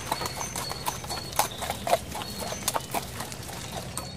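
The hooves of an overloaded donkey clip-clop over a hard surface in a steady, uneven walking rhythm. The sound is close and fairly loud against a constant low background hum.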